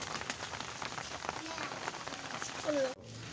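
Steady rain pours down around an outdoor spot where pigeons, chickens and ducks are kept, forming a dense, even hiss throughout, with a brief whistle-like sound near the end and faint voices underneath.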